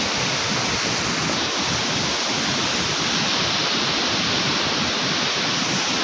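The Ganges rushes at great force near Kheri waterfall below Maneri Dam in Uttarkashi, making a dense, loud, unbroken roar of water that fills the whole stretch with no voices.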